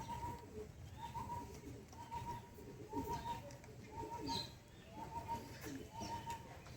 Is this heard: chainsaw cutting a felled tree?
no